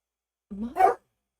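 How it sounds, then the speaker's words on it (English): A dog named Wolfie gives a single short bark, close and fairly loud, preceded by a brief low whine and followed by silence. "Please stop barking at your sister."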